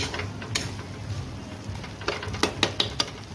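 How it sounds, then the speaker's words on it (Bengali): Tarka spices being dry-fried in a pan, with faint low sizzling under scattered metallic scrapes and clicks of a utensil stirring against the pan, the scraping growing busier and sharper toward the end. "আর একটু 2-1 মিনিট ভেজে নেব ভালো করে।"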